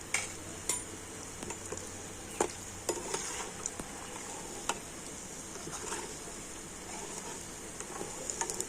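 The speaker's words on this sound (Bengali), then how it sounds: "পিঠেগুলো তেলের মধ্যে খুব সুন্দর করে ভেজে নিয়েছি" Pitha rice cakes frying in hot oil, a steady soft sizzle with occasional light clinks of a utensil stirring in the pan, no voices.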